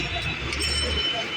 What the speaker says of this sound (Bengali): এটি মেট্রো রেল